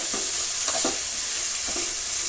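Vegetables frying in oil for gobi manchurian rice give a steady broad sizzle throughout, with a few spoon-stirring scrapes near the start and the end, close and fairly loud, with no talking.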